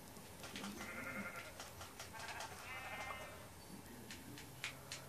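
Sheep in Minecraft bleating, several repeated bleats close and clear over a steady game background, with no talking.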